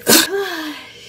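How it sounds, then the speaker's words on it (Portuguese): A single sharp sneeze from a person at home, a loud close burst followed by a brief vocal trailing tail. "Vai espirrar."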